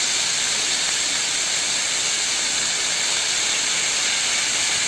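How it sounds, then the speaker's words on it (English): Barbecue sauce poured over a hot veg sizzler plate gives a loud, steady hiss of sizzling that runs unbroken from start to finish, with no voices. "generously pour over the barbecue sauce. This will give perfect smoky flavor to our sizzler that we have prepared"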